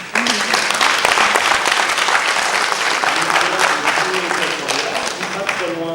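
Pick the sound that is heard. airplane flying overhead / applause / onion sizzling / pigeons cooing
applause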